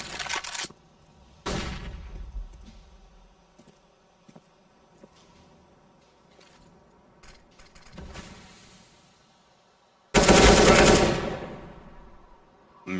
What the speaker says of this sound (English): Mir walks right into his AK.